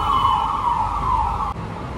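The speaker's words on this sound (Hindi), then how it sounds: "भाई एम्बुलेंस" Ambulance siren wailing loud and close, a steady high tone holding for two seconds with road noise beneath, no talking.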